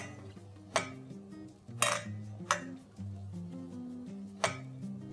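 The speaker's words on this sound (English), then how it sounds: "Give this a nice mix." A spoon clinks now and then against a cooking pot as black pepper, salt and Kashmiri red chili powder are mixed for a one-pot red lentil soup, the sharp knocks falling over steady background music.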